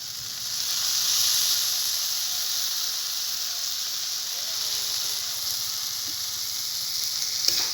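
Kalmi greens frying in mustard oil in a pan, a steady loud hiss and sizzle that swells slightly early on and holds evenly throughout, close up with no talking.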